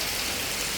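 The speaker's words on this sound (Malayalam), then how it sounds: "നല്ല മഴ," A brief stretch of heavy rain roars down around a sheltering porch, a constant, full hiss of water striking the ground nearby, uninterrupted.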